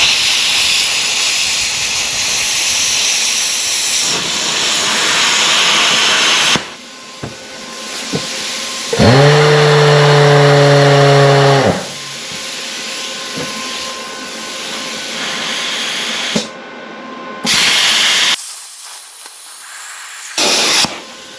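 An AC compressor cutting machine slices into the side of a compressor, a loud continuous hissing, grinding roar that shifts pitch in stages, with a few short pauses and a strong whining tone partway through.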